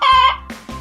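A chicken gives one drawn-out, loud squawking cluck followed by two short clucks in quick succession, close and alone.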